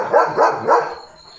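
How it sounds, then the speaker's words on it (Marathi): Three quick, evenly spaced barks from a German Shepherd ring out nearby, each loud and full, before the sound trails off into quiet. "नुसता भुंकत राहतो"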